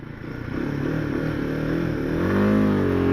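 A Royal Enfield Himalayan motorcycle accelerates up through its gears, its single engine note climbing loud and close with a steady rising drone and a brief dip at each gear change.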